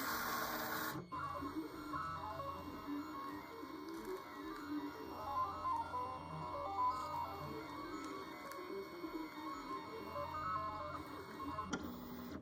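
A Siser Juliet cutter draws a shape with its sketch tool for etching an acrylic Christmas ornament blank, a steady mechanical whir and ticking of the carriage that runs continuously with no voices.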